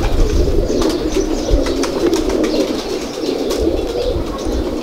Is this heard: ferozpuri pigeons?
yes